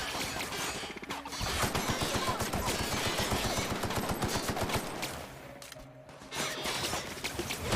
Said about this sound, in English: Still shooting at Jeremy.